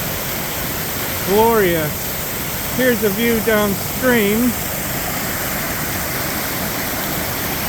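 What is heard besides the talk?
waterfall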